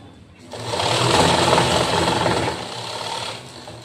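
A sewing machine runs in one steady burst of about three seconds while stitching a lined blouse with a patti, a close, even mechanical whir starting and stopping abruptly.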